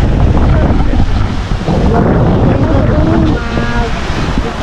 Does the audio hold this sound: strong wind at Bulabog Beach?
yes